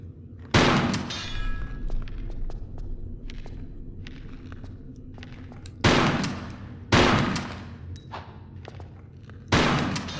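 Gunshots in the video game Tomb Raider, four loud separate blasts spread over about ten seconds, each with a sharp crack and a decaying tail, over quieter clatter and footsteps.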